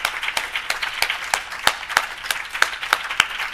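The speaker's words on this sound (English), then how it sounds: "I would like to give them a big applause for this" At a photo projection and book presentation, the audience gives light applause: a handful of distinct claps in a loose, fairly regular rhythm, each one crisp and close over a soft background of scattered clapping.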